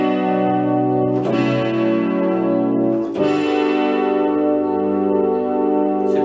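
An electronic keyboard voice holds long sustained notes with a buzzy, effect-laden tone, changing pitch twice with a soft attack and ringing steadily without cutting off.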